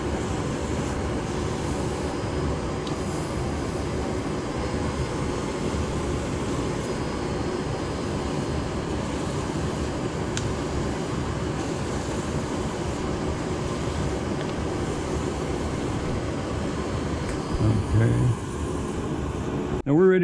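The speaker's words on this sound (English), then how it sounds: "We're going to turn our dust collector back on," A workshop dust collector runs steadily in a wood-turning shop, a loud continuous broadband roar that holds level for the whole stretch with only a small bump near the end.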